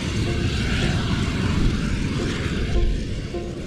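A gas flare at a Texas fracking oil field roars in a constant, loud, broadband rush like a passing airplane, steady throughout with no voices.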